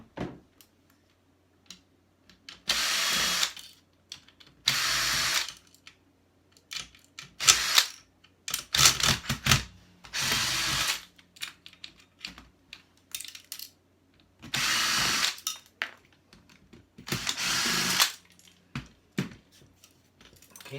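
A power drill backs screws out of a plastic casing during a teardown. It gives about eight short, loud whirring bursts, each roughly a second long, with quiet gaps between them.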